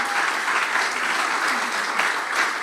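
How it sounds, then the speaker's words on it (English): Conference audience applauding at a startup summit expo in Germany, a close, even wash of many hands clapping at steady loudness for the whole stretch, with no voices over it. "This is your applause."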